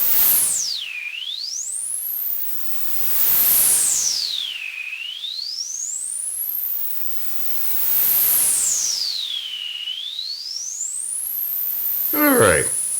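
Synthesized tones with a snowy, static-like hiss sweep down and back up in three slow, repeating swoops, ending in a brief glitchy burst; loud and with no voices.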